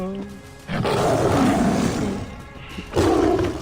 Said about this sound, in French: Et les lions qui ne me lâchent pas, les enfoirés.